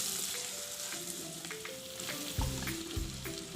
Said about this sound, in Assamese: ভালকৈ ভজা গৈছে আৰু তেলটো বিৰিঙি উঠিছে।